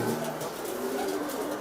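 Racing pigeons kept for a long-distance race in Senegal coo softly and repeatedly through a steady wash of outdoor noise.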